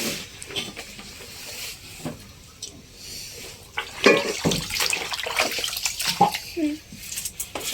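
Food being rinsed by hand in a basin of water in a home kitchen, with sloshing and splashing that swells midway, under ongoing conversation.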